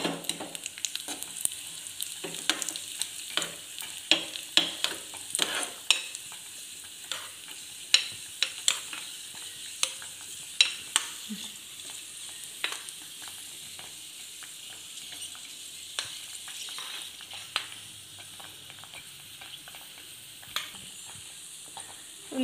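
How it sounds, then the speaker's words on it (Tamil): Cashew nuts fry in a pan for millet sweet pongal, with a soft steady sizzle broken by frequent sharp clinks and scrapes from stirring, close up and without speech. "இப்போ முந்திரி பருப்பு தாளிச்சிக்கலாங்க"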